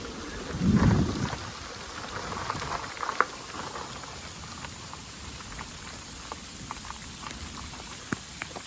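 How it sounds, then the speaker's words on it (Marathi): Steady first monsoon rain of the season in Konkan patters and hisses on surfaces with scattered drips, and a low rumble swells briefly near the start. "पहिला पाऊस चालू आहे कोकणातला"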